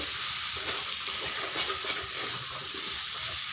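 Chunks of young jackfruit are stirred in a frying pan, producing a loud, dense and unbroken sizzle with faint scraping throughout.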